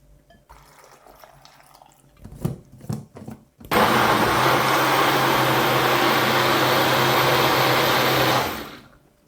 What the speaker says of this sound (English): Transfer this into your blender, add some water and blend it until it's smooth.